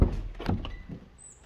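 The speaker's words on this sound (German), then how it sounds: "machen wir die Tür auf, schauen wir mal rein, klopfen wir mal an." A door in an old porcelain factory is pushed open and rapped on, giving a few close, dull knocks and a short creak that fade into a quiet, empty room.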